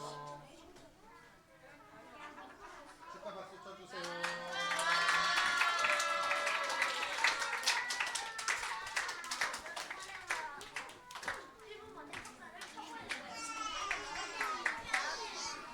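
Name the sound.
children clapping for a birthday at Sunday school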